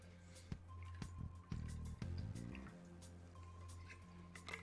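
Water being drunk during a Persona 5 play session, with wet dripping and squishing liquid sounds and a few sharp clicks, all at low level over a steady background hum.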